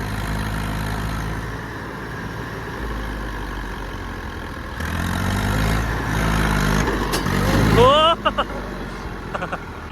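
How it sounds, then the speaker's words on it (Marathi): A tractor engine runs while stuck in a field, a steady low idling rumble that swells louder in the second half under people talking, with another engine nearby. "भाऊ आता ट्रॅक्टर इथे थोडा फसला सारखा झाला आहे"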